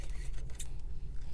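Scissors snip through a transparency sheet while trimming a pressed-flower card for a junk journal: a single short, crisp cut over a steady low hum.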